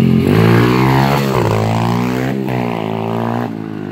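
Modified SSR125 pit bike engine revving hard on a muddy hill climb, a loud, close, continuous buzzing drone with pitch rising and dipping through gear shifts.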